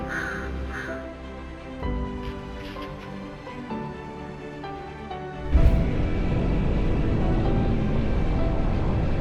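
Crow cawing amid an outdoor roadside scene, a few harsh calls standing out over steady background noise, with a louder broadband rush of traffic or wind taking over midway.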